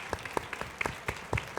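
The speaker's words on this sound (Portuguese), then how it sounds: "Uma salva de palmas." Brief, quiet applause from a small audience at a panel talk, a handful of separate claps spaced irregularly and heard at a distance.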